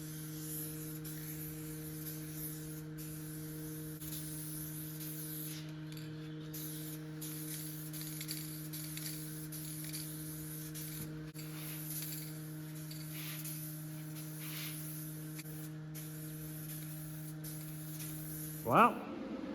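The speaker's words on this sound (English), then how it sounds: "So I'm gonna go ahead and wipe this down and get to spraying." A steady, continuous hiss of spray paint on a 2002 Four Winns boat runs throughout over a low electrical hum, ending with a brief sharper burst.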